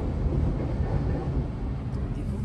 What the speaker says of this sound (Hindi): रेल है पूरी सुपर फास्ट है रेल